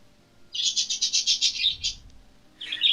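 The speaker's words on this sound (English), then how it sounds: "Yeah, that's your birds." Bird chirps in a quick rhythmic series of about ten bright notes, followed by a pause and a shorter burst at the end, close and clear with no talking.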